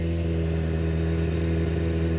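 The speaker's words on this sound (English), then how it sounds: "that's why this thing is idling hella high and running hella rich" A motorcycle engine idles high and runs rich, giving a close, loud, steady drone that holds an even pitch throughout.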